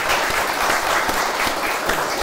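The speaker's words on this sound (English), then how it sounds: "a round of applause for that." Audience applause after an artist talk and conversation, a steady, dense wash of many hands clapping close by and filling the whole short stretch without a break.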